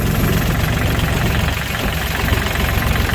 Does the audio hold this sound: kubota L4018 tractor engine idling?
yes